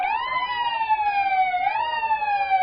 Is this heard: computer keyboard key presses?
no